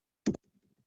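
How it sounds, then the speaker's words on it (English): A single sharp keystroke on a computer keyboard, pressing Control and Enter together, lands as one quick close click and is followed by a few very faint soft taps in an otherwise quiet room. "I'm going to hold control down now and hit enter and watch what happens."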